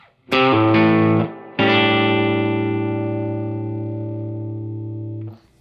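An electric guitar plays through an amplifier with an overdrive pedal, giving a thick, distorted bass-heavy tone: a short chord, a brief pause, then a long ringing chord that slowly decays before being cut off.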